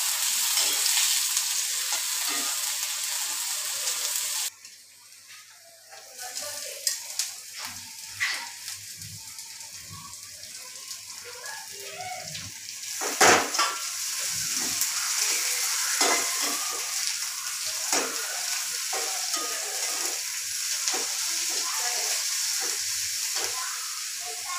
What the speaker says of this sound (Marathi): आता मस्त त्याला हलवायचं ह्याच्यामध्ये आता तेलामध्ये